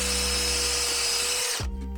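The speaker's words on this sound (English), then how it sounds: "Just going to pre-drill them so I don't split the wood." A power drill pre-drills holes in wood from a beer cask barrel being made into a bar stool: a loud, steady motor whine close by that winds down and stops near the end.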